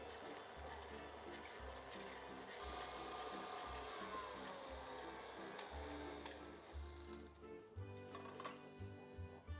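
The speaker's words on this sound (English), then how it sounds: "Then we're gonna fit it with a paddle attachment and we're gonna beat the two till it's nice and fluffy." A stand mixer with a paddle attachment beats butter and sugar, a faint, steady motor hum with a rhythmic, pulsing churn that shifts slightly near the end.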